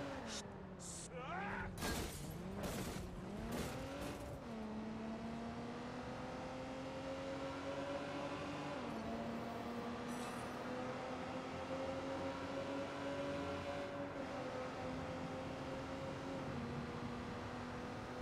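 A car engine in the video game Watch Dogs 2 revs and accelerates through several gear changes, a rising and falling whine that is steady and moderately loud, with a few brief bursts of other noise early on.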